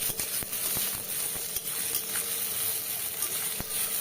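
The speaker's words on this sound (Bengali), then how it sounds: "তারপরে পেঁয়াজটাকে বেশ লাল লাল করে ভেজে নেব" Onion frying in hot oil, a steady close sizzle and hiss with scattered small pops and crackles throughout.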